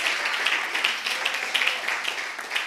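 A church congregation applauding steadily, a dense wash of many hands clapping at once without pause, with no voices standing out.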